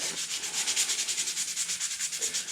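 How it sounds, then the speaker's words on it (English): Rhythmic back-and-forth sanding of a 3D printed Fallout T-60 armor piece, steady hand strokes scraping close and moderately loud with no talking. "I'm gonna go ahead and sand the rest of this"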